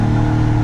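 A car engine rumbling low and steady in a brief close burst, with a DIY electric exhaust cutout open for a louder tone.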